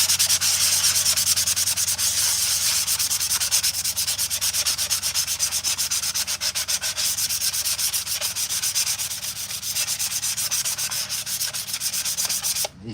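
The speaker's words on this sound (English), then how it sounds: "So then get a little sanding block, put it over some of this 220." Armor pieces for a Jedi Purge Trooper costume sanded with a sanding block wrapped in 220-grit sandpaper, giving a continuous close, loud rasping with rapid back-and-forth strokes throughout and no voices.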